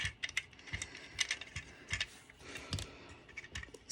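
A black bumper part is screwed back on, giving quiet, rapid ratcheting clicks in an uneven rhythm, close up with no talk.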